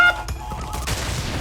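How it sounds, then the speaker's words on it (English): An explosion in the video game Crash Bandicoot N. Sane Trilogy opens with a sharp blast, followed by crackling, rumbling bursts that trail off over a second, with no speech. "Make sure not to look at the explosion."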